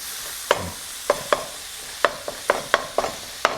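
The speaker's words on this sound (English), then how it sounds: "Start to mash this up." Food being mashed in a pan while cooking a viral TikTok recipe, with a series of sharp, irregular clacks and scrapes from the utensil striking the pan, close and distinct, no talking.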